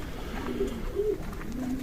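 Soft, low cooing from pigeons, a few gentle rolling coos spaced about half a second apart against a faint background hiss.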